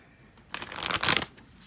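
Tarot card deck, an archetype oracle-style deck, shuffled once in a short riffling burst close to the mic, with a quiet lead-in and a brief tail after.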